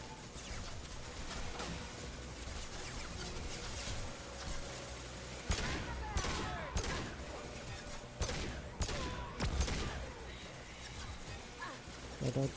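Gunfire in Mass Effect 2 under a steady game soundscape, with a few bursts of shots clustered in the middle and later, fairly quiet and mixed with a voice talking.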